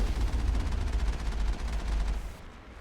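Sustained rapid turret gunfire from a vehicle in the video game Mass Effect on Therum, a dense continuous rattle that stays loud before cutting off near the end.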